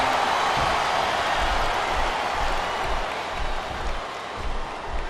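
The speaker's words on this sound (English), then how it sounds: "I think these superstars are getting some feedback from the crowd, JR." Steady roar of a wrestling arena crowd in SmackDown vs Raw 2007, a dense continuous wash of cheering and applause at close, even loudness with slight swells throughout.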